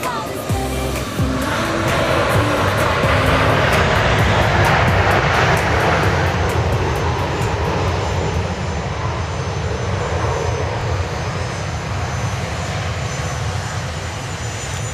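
An airliner at Dallas Love Field on a Sunday morning, a loud, sustained roar of aircraft engines that swells and then slowly fades, steady throughout with no talking.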